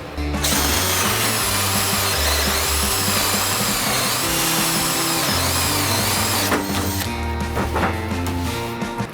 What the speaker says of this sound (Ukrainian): 26-те сверло Форснела, також друга швидкість